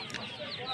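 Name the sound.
chickens clucking at a pigeon market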